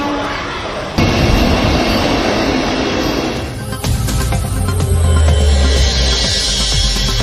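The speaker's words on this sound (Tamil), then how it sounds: "வந்தே மெட்ரோ ரயிலுக்கான சோதனை ஓட்டம் சென்னை கடற்கரை ரயில் நிலையத்தில் தொடங்கியது" Vande Metro train on a trial run at Chennai Beach railway station, a loud continuous rumble of rolling stock with rail clatter and a swelling screech near the end, over a background of crowd noise.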